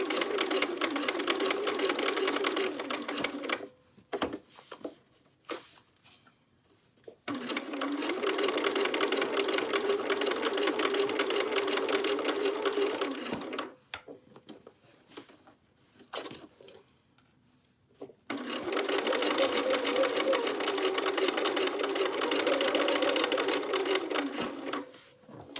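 A domestic sewing machine stitching binding onto a quilted jacket runs in three steady bursts of fast whirring, separated by quiet pauses with small handling clicks.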